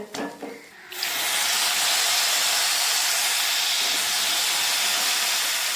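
Water sprinkled into hot upma in a pan sets off a loud, sustained steaming hiss that starts abruptly after a second of quieter sizzling and holds steady to the end.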